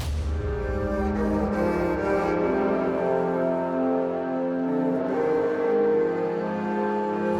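Guitar played with a violin bow and processed into a sustained, smooth orchestral-style drone with layered tones swelling continuously and closely throughout, with no talking.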